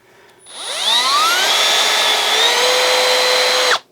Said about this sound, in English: Grab my drill here.